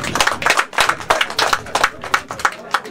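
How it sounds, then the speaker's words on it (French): A small crowd claps at a Côte d'Ivoire independence celebration in Meaux, France, with uneven, close hand claps in a quick irregular rhythm for a few seconds. "Applaudissez-vous."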